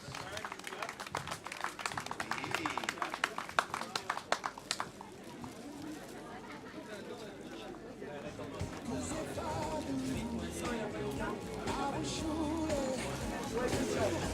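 An audience claps for a runner at the awards ceremony of a 12 km trail race, with several seconds of crisp, busy clapping that fades away as someone speaks over a microphone.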